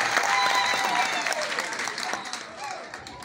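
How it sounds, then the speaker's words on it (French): A crowd at a library inauguration ceremony applauds loudly, the clapping strongest at first and easing slightly, with voices and a faint tone heard over it. "Maintenant, applaudissez plus fort pour son essence, M. Faure Essoufou-Nana."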